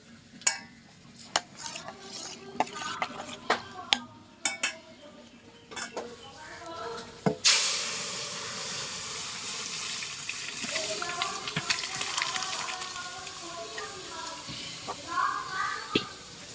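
Dal poured into a hot tempering in a pan: after a few clinks of utensils, a sudden burst of sizzling and bubbling rises and keeps hissing steadily, close by, with occasional light clatter.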